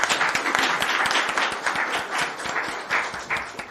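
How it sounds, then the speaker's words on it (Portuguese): Audience applause: a small crowd claps steadily and fairly close for a few seconds, individual claps audible within the even patter, no voices over it. "Uma salva de palmas para a Dona Heloísa."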